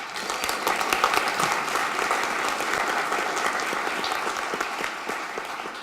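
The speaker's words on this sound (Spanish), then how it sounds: "Y un aplauso por el cumpleaños número 12 de Ceiba." Audience applause in a room after an innovation panel, celebrating an organization's 12th anniversary: steady, dense clapping from many hands, sustained at even loudness throughout with no talk over it.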